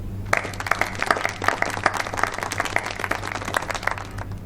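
An audience bursts into steady, dense applause, many hands clapping together at close range for several seconds without talk.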